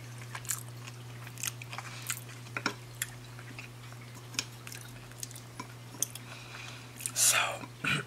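Close, quiet wet chewing and occasional soft bites while avocado sushi maki rolls are eaten, with faint mouth sounds, a low steady hum, and a brief louder clatter near the end.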